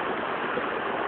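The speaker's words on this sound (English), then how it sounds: "a little brook this morning, and just came across this little waterfall" Small waterfall on a woodland brook, a steady close rush of splashing water with no break or voices across the short stretch.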